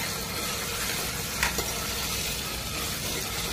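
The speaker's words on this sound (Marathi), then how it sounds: "आता छान फिरवून घ्यायचंय" Garlic paste and carrots being stirred in a hot pan give a steady, close sizzle throughout, with a brief scrape of the spoon midway and no talking.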